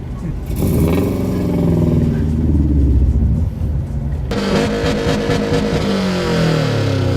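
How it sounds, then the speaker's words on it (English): Subaru engines rev with loud exhaust at a big Northwest Subaru meet in 2016, a steady mid-pitched roar that swells and jumps to a harsher, brighter blare partway through, with voices faintly underneath. "all these loud exhausts just sound kind of pedestrian"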